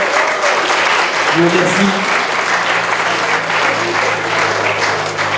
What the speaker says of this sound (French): On peut les applaudir de manière préliminaire.